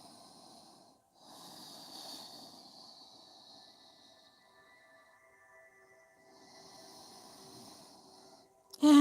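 Slow nasal breathing during a yoga session, soft airy inhales and exhales through the nose in a calm, steady rhythm, close and quiet with no talking.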